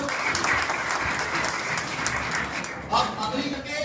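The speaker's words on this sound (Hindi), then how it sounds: "हमारी संस्था के लिए जोरदार तालियों" Applause rises for college pharmacy toppers at an award ceremony, a dense, sustained clapping crowd filling the hall while a voice speaks over it.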